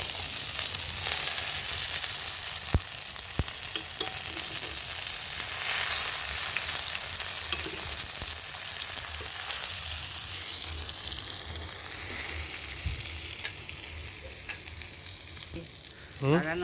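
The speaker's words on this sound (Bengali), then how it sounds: "এখন কত সুন্দর আগুনটা আছে, আস্তে আস্তে করে ভাজা যায়" Fish frying in oil over a wood fire in an earthen village oven, sizzling loudly and steadily with occasional stirring clicks, fading slightly toward the end.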